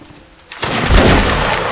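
Rifle volley in a video game: near silence, then a loud ragged burst of many rifles firing at once that rolls on as a dense, booming roar, with no talk.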